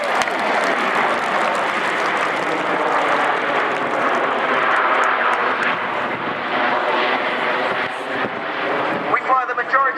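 Red Arrows jets roar past at the Yeovilton air show, a loud, sustained broadband rush of engine noise that swells and fades over ten seconds, with crowd noise and a commentator's voice mixed beneath.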